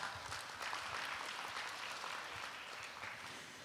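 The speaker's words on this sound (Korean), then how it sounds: "큰 박수 보내주시기 바랍니다" At a tech conference keynote, a large audience applauds a departing speaker, with sustained dense clapping across the whole moment and no voices over it.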